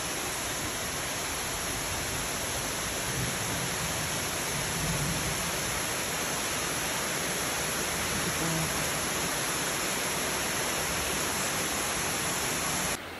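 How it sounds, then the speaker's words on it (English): Steady, dense rushing water of Virginia Hawkins Falls roars throughout at an even level, a broad continuous wash of falling water with no pauses. "So, this is my first waterfall of the hike."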